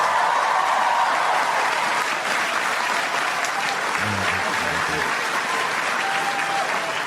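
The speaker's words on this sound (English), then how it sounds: "Was it just applause?" A large crowd applauds at a class of 2016 graduation ceremony, with sustained, dense clapping and a low voice briefly audible underneath midway.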